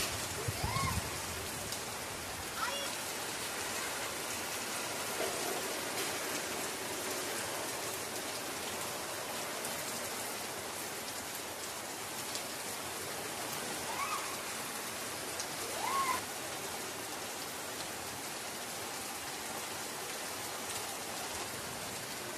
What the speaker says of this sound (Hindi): अभी तो बारिश खूब तेज हो रहा है